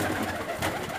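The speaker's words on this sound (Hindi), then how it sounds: "पूरे मलवई पंजाबी कबूतर हैं ये" Soft, low cooing of white Malwai Punjabi pigeons fills the moment, steady and close, with a gentle breathy background and no talking.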